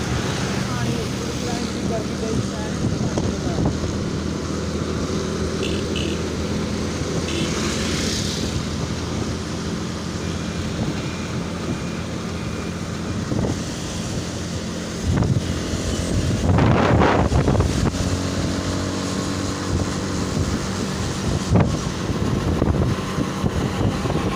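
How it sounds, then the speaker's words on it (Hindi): A motorbike engine strains steadily while climbing a bridge in heavy traffic, heard as continuous loud road and wind noise with a rougher surge partway through. "यहाँ पे बेचारी बाइक की चीखें निकल जाती हैं जब हम ऊपर चढ़ रहे होते हैं"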